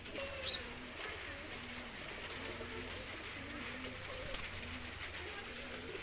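A pair of Fakirgul pigeons coo softly and repeatedly close by, low rhythmic calls recurring across a quiet, faintly noisy background, with a brief flutter near the start.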